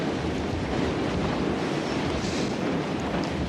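Strong wind blowing outdoors in a western setting, a loud, continuous roaring rush that buffets the microphone steadily throughout, with no voices.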